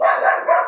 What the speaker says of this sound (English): do apologise about my barky dog